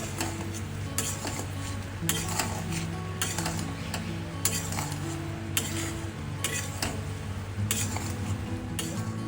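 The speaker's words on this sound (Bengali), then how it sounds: "নাড়তে যতক্ষণ পাক না হবে ততক্ষণ নাড়তে" Jaggery is stirred in a pot while making amla pickle, with repeated scraping strokes and soft clinks of a utensil against the pot at a steady rhythm over a continuous low background hum.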